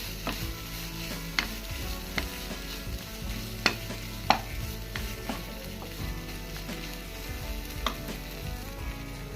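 Tomato ketchup sauce for a chicken pasta is stirred in a hot pan with a steady sizzle, and sharp utensil clicks ring out at intervals before cooked macaroni goes in; no voices.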